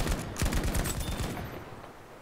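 Dense automatic gunfire from Battlefield V, overlapping bursts and single shots in quick succession, loud and close at first, then thinning and fading toward the end with no talk over it.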